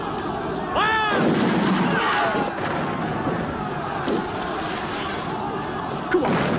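Rifle volleys crack out in a film battle scene set in the Zulu War, sharp loud bursts at irregular intervals amid shouting and crowd noise from soldiers.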